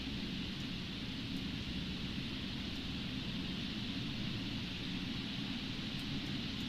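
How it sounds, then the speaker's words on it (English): Steady rain falls in The Sims 4, a dense, even hiss with a low rumbling body that holds at the same level from start to finish, with no voices. "Sure, there's a lot of rain around here."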